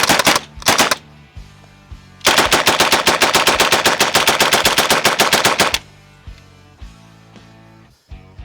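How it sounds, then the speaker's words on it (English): An M3 Grease Gun submachine gun firing a full magazine outdoors: a short opening burst, then one long loud sustained string of rapid even shots that stops abruptly, followed by ringing echo and a few faint knocks. "I'd like to put another mag through it. We'll see how she goes."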